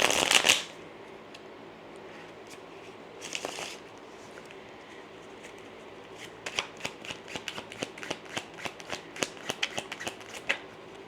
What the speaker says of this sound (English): Let's pull some tarot cards on this